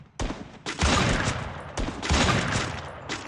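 Barrett M82B sniper rifle fired in a video game: several loud, sharp booming shots in close succession, each trailing into a dense rumbling echo that blends into the next, with no talking.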